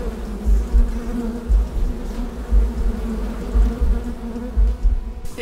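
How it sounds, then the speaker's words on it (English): A bee buzzing close by, a steady droning hum that swells and fades in repeated pulses as it hovers near, with no talk over it. "Yeah, stupid bee."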